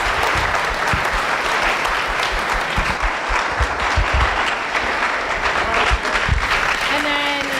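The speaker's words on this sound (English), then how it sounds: "Let's give the panelists a round of applause." An audience in a high school chapel applauds the alumni panelists, sustained loud clapping with a few cheers and brief talk beneath it.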